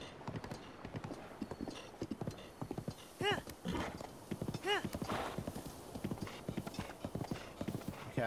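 Rhythmic clip-clop of horse hooves at a quick gait in The Legend of Zelda: Breath of the Wild, with a couple of whinnies and faint talk mixed in.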